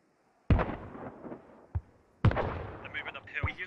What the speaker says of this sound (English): They just call mortars in on us?